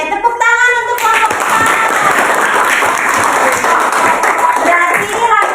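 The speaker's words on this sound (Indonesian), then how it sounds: "tepuk tangan untuk kelompok" A classroom of students applauds a student group, with dense, steady clapping that runs the whole time at close range after a brief voice at the start.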